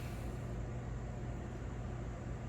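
A Woozoo Globe electric fan keeps up a steady broadband whoosh of moving air after being switched off, a faint and even hum and hiss with no talking.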